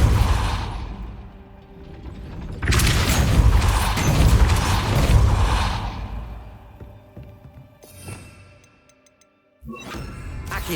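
A heavy castle gate mechanism in Hogwarts Legacy grinds and rumbles as the gate rises, a loud, sustained mechanical roar with ratcheting clanks, dropping to near silence before a final burst of rumble.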